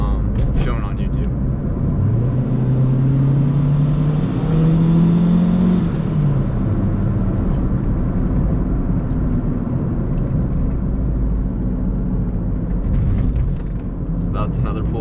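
Hard acceleration from a turbocharged Honda Civic with a D16Y7 engine on the street, heard from inside the car: a loud, steady engine roar that climbs in pitch across the first few seconds, then holds a continuous drone, with brief talk near the start and end.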